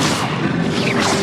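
Incendio fire spell cast in Hogwarts Legacy: a brief, loud, dense whooshing burst of flame-like noise lasting about a second, with no talk over it.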